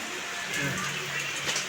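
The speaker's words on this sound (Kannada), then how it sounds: "ಎಂತ ಮಳೆಯಾ" Rain falling steadily outside a home, a soft continuous hiss of drops with faint scattered patters, moderately close, with a voice briefly heard over it.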